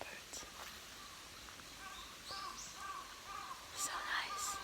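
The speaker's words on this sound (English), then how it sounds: "Can you hear the birds?" Faint bird calls and chirps come from a natural setting on a hike, scattered and distant over soft background noise, with some quiet voices.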